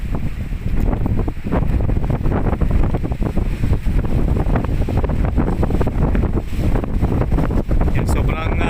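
Strong wind buffets the microphone in a constant loud roar, with waves crashing beneath it along a rocky seaside spot, continuous and unbroken throughout.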